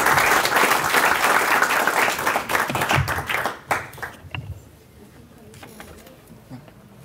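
Audience applause at a university degree ceremony, dense clapping filling the hall for several seconds before thinning out to scattered claps and quiet room noise.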